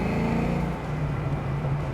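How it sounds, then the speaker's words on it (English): A Ford Mustang 5.0 Foxbody convertible's V8 burbles on the road, a low, throaty engine rumble that shifts pitch partway through and stays loud and close throughout. "Listen to it burble, ready?"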